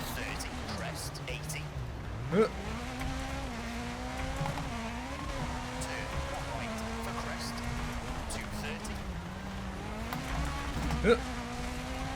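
A rally car in the EA WRC video game on the Safari Rally Kenya stage whines through rising and falling engine revs as it exits corners, under steady spoken commentary, with occasional gear-shift blips.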